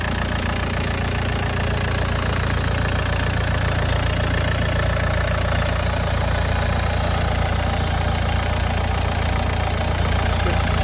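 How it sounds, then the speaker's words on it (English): A Land Rover 200TDi diesel engine, a conversion from a 1989 Discovery fitted in a Lightweight, idles steadily and loudly close by, with a rough, even clatter and no break across the whole stretch. "And then there we have a 200 TDI conversion from a 1989 Discovery."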